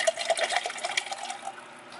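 Water is poured from a tap into a shaker bottle for a Herbalife protein shake, a short splashing trickle that tapers off after about two seconds.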